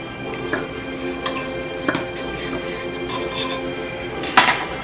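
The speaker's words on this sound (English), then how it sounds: "We're just going to basically run a knife along the edge." A knife is run along the edge of a banana bread pan, producing light metallic scrapes and several clinking taps spread across a few seconds, ending in a brighter knock, close and without talk.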